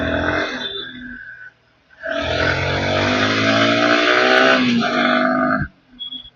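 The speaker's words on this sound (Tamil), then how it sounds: "ஃபுல்லா ஸ்கூல் வண்டிக்கு தான் போகுது." School vehicles drive along a road in afternoon traffic, engine notes rising in two loud nearby revving sweeps separated by a brief lull.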